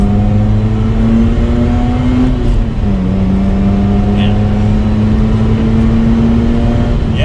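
A smooth, steady rotary engine drone rises gradually in pitch as a Mazda RX-8 accelerates, loud and continuous from inside the cabin.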